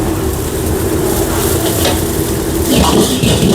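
Boiled chicken noodles are stirred and tossed in a hot pan, a continuous loud sizzle with scraping and mixing noise close by, no talk.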